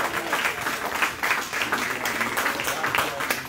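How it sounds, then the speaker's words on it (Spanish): Church congregation clapping in praise, a dense rippling wash of hands with a preacher's voice speaking over it throughout. "Dale un aplauso al Señor."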